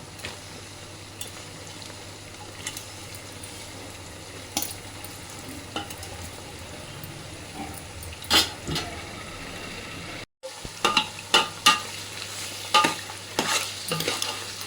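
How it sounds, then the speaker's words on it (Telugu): Prawns fry with onions in a pan for gongura prawn biryani, a low steady sizzle broken by sharp scraping spatula strokes that come in quick clusters, louder and more frequent in the second half. "ఇలా వేగి వరకు వేయించుకోవాలి రొయ్యని."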